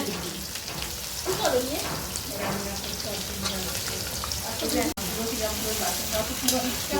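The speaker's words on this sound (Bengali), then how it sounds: "পেঁয়াজ ভাজা হচ্ছে" Onions fry in a pan in a hotel kitchen in Puri, giving a steady, crackling sizzle like rain on a surface, with people talking in the room over it.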